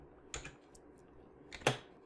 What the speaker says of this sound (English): you can type in something here like go to sheet